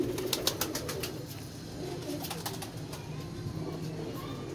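A black-and-white pigeon coos quietly at a distance over a noisy background, with a few faint flutters, and no voices.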